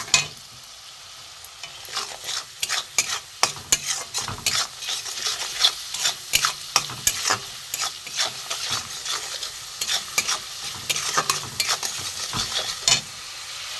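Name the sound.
spices with salt being stir-fried in oil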